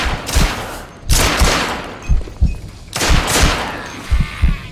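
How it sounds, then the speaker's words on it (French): Heavy gunfire in the video game The Order: 1886, loud rapid bursts and sharp shots coming in several waves close by, with no talking over them. "Qu'est-ce qui me tire dessus, là?"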